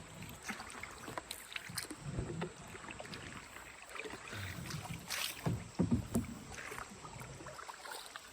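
Paddles dip and splash steadily as a canoe moves along the Uwharrie River, soft rhythmic water strokes under light wind noise with no talking.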